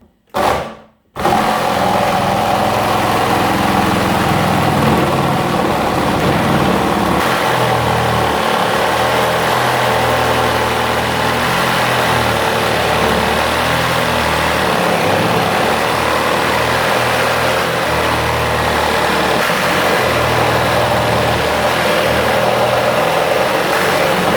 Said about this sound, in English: What is a sabre saw without testing? And let's gonna find out how it works on a wood.